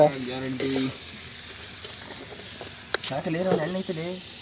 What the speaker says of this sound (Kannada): ನಮ್ಮ ರೆಡ್ಡಿ ಅವರು ಬೆಳ್ಳುಳ್ಳಿ ಏಡಿಯನ್ನು ರೆಡಿ ಮಾಡ್ತಿದ್ದಾರೆ